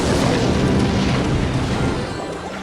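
A rocket spell in the mobile strategy game Clash Royale lands with a loud, rumbling blast that fills the whole moment and fades slightly at the end.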